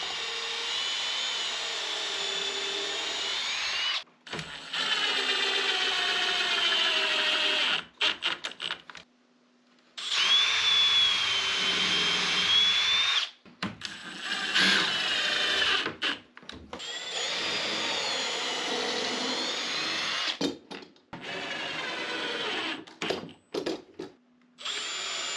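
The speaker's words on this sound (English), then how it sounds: "I drilled a pilot hole using a countersink bit and installed the screws." Cordless power drill with a countersink bit boring pilot holes and driving screws into wood while building rustic cabin shelves, in repeated loud whirring bursts of several seconds each, separated by short pauses, with no talk.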